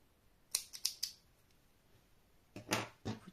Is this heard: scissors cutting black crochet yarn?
yes